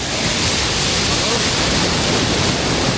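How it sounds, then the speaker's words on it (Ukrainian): Sea waves on the beach at Golden Sands near Varna, Bulgaria, make a constant loud, close roar of surf and wind buffeting the microphone, with no clear breaks between swells. "Можливо, зараз пройду ось ці хвилі."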